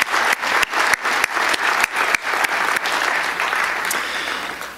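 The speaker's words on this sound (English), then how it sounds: "So let's give our musical groups a round of applause." An audience at a city tribute to Martin Luther King Jr. gives a round of applause for the musical groups, with dense clapping and a few sharp individual claps standing out before it gradually thins and softens.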